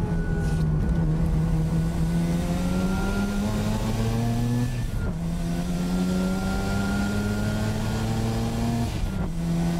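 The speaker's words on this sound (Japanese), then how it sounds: "このエンジンもばらつくね結構。" Mazda RX-7 FD3S rotary engine at high revs, running rough and uneven with a steady harmonic drone that sags and recovers in stumbling surges, loud and close throughout with no talk.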